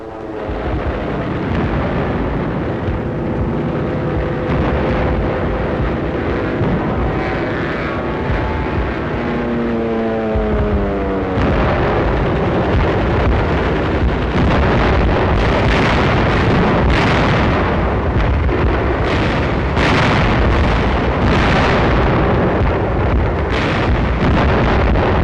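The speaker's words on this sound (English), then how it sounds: "the Air Force took to the skies to bomb and strafe and fight the rejuvenated Luftwaffe" A WWII wartime newsreel soundtrack carries a loud, continuous droning roar of propeller aircraft, then rumbling blasts and bursts from aerial bombing and strafing that fill the latter half without narration.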